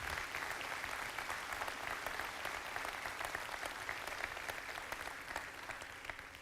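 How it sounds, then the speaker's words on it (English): A convocation audience of secondary teachers gives a sustained round of applause, a dense, even crackle of many hands clapping at moderate distance with no voices. "Let's give those folks a round of applause."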